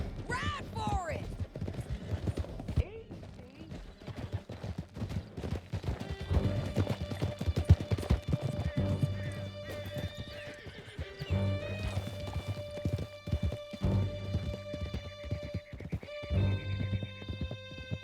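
Horses galloping in Red Dead Redemption 2, a rapid continuous clip-clop of hooves with a whinny near the start, close and busy, under shouted voices, music and scattered gunfire.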